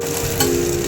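Green chillies frying in about two tablespoons of oil, a steady dense sizzle that stays close and even, with no voices.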